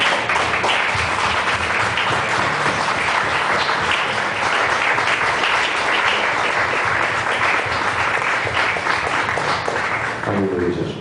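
Church congregation at a deliverance service applauding continuously, dense loud clapping sustained for about ten seconds before a voice comes in near the end.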